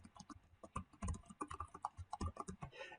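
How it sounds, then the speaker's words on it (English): Quick bursts of keystrokes on a computer keyboard as an email address is typed in, close and crisp, with irregular clicks and brief pauses and no voices. "You have to type that email address you gave them"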